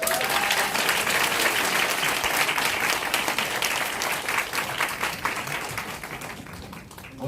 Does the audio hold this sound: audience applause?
yes